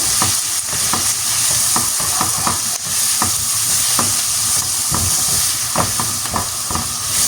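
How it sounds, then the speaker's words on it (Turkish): Steady sizzling of spices frying in a pan for meat tacos, with scraping, clicking stirs from a utensil breaking through the hiss at irregular intervals. "Ve güzelce baharatlarımı karıştıracağım."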